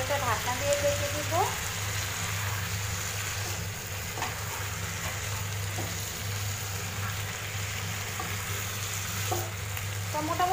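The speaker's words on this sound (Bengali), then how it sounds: "টমেটোটা দিয়ে আমি ভালোভাবে মশলার সাথে মাখিয়ে এটা একটা ঢাকনা দিয়ে ঢেকে দিব" Tomatoes are stirred into a spice paste frying in a pan for a pabda fish curry, producing a steady close sizzle with occasional scraping stir noises and a low hum underneath, with no one talking.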